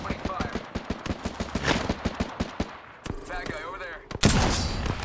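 Sentinel sniper rifle firing in the battle royale game Apex Legends, a series of sharp evenly spaced shots followed by a louder blast near the end, with game effects and no talk.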